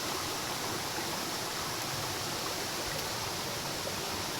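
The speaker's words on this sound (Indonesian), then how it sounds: "air terjun." A waterfall in the Indonesian mountains near coffee plantations, a dense, constant rushing roar of falling water, steady and fairly close, with no voices.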